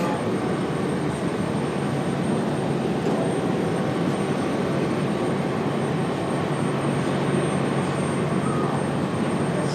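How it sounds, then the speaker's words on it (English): Breeze Airways airliner touching down at Raleigh-Durham airport, a steady loud broadband jet roar filling the whole stretch without a break. "Beautiful touchdown for Breeze Airways."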